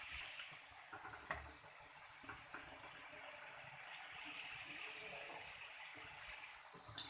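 Egg french fries frying in hot oil in a home kitchen, a steady soft hiss and sizzle with a few faint clinks, continuous and fairly quiet throughout.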